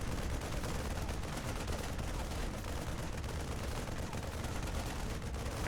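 Marines open fire on an Overlord in a StarCraft 2 Terran versus Zerg match, a dense, continuous rattle of rapid gunfire that holds steady and loud throughout with no talk over it.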